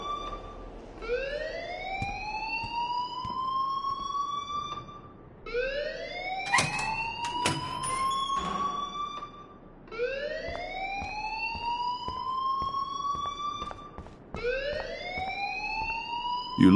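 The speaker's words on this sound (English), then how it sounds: "please turn off that alarm since that's your job" An alarm in the video game Life Is Strange wails in four rising siren sweeps, each climbing and holding, steady and fairly loud with a brief clatter midway.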